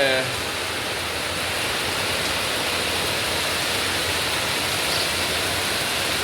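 A dense, constant roar of heavy rain falls at the Talat Seri market in Phutthamonthon during the afternoon, with a brief voice at the very start before the downpour continues alone.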